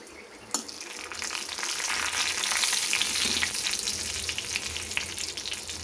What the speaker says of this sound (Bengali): এখন প্রথমে গোটা জিরে আর পাঁচফোড়নের ফোড়নটা দিয়ে দিলাম।